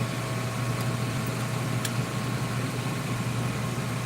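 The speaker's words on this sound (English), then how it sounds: "that noise you hear in the background, that's my air fryer" A steady air fryer hum with a low drone and broadband whir runs continuously, unchanging in level throughout.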